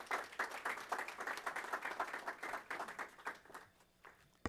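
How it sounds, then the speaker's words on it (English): Sustained applause from an audience at a North Miami civic ceremony, dense overlapping clapping that swells and then thins toward the end. "Let's give her a round of applause."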